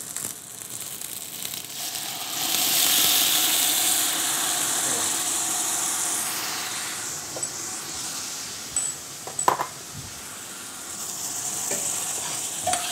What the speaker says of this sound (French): je vais faire ce qu'on appelle déglacer, c'est-à-dire que je vais jeter un liquide dedans